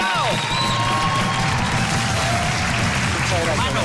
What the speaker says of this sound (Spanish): Un aplauso para Julián